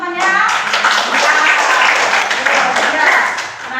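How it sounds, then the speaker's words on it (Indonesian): Primary school classmates clapping together for a pupil in a Hindu religious education lesson, loud, fast hand clapping close by, with children's voices chattering over it. "tepuk tangan teman-temannya"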